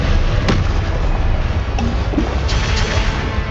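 Loud, dense blast of a Confringo fire spell in the Hogwarts Legacy video game, a sustained roaring burst with a couple of sharper cracks layered through it.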